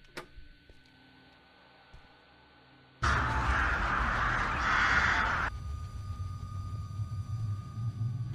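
Crows and other birds in the horror video game Ouija Rumours burst into loud, dense cawing for a couple of seconds over a low, eerie ambient drone.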